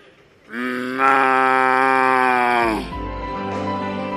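A man imitates a cow's moo with his voice: one long, loud, drawn-out lowing call that rises in pitch, then falls and fades, followed by a low background rumble.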